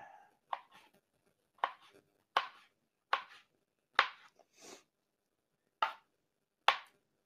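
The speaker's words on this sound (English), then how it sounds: "Then let's go ahead and slice these out." A knife slices avocados for guacamole on a cutting board, about nine crisp, evenly spaced thunks close by, with quiet pauses between strokes.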